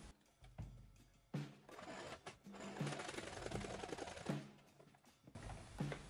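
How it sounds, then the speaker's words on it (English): A sewing machine stitches top grain leather to top grain leather, running in fast mechanical bursts with short pauses between stitching runs, close and alone. "Now I am just stitching top grain to top grain the same."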